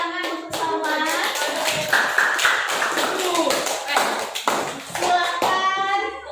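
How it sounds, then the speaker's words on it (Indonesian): Classroom applause for a student who just presented, a short burst of claps from a small group of children mixed with voices and talking. "Kita berikan tepuk tangan untuk Salman."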